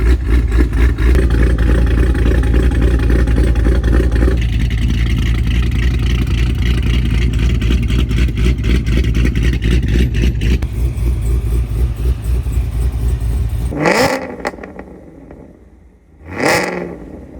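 A Cadillac Escalade V with a swapped 416 engine, making 800 to 900 wheel horsepower, roars loud and close in a sustained high-rev drone that holds steady, then cuts off, followed by two sharp throttle blips.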